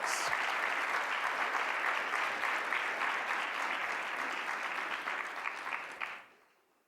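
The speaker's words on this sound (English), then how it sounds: "Let's give him a round of applause." An audience at a media conference keynote applauds steadily for several seconds, dense clapping that fades out sharply at the end.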